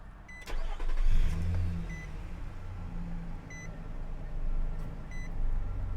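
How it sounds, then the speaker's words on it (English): A 2019 Nissan Frontier CrewCab SV 4x4 with a 4-liter V6 is started with a twist key in the dash, a brief crank and then a low steady idle, with chimes beeping now and then. "we will insert our key in the dash and twist to start"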